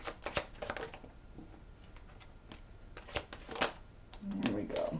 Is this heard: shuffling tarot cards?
yes